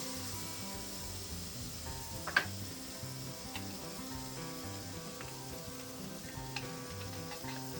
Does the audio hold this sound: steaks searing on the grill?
yes